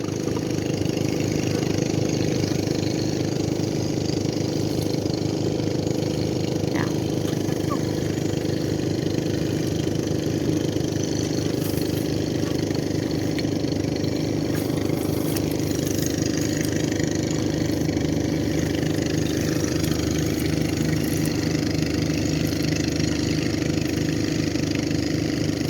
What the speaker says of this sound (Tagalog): Pasensya na po, maingay yung nagpapatuyo.